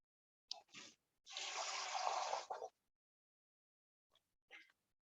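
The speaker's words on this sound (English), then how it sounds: "We're going to put in 1/2 cup of water." Half a cup of water poured into a matzo ball mixture for chicken soup: one steady pour of about a second and a half, framed by a few short kitchen clatters and a faint voice.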